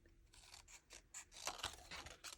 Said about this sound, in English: I'll just use my scissors this time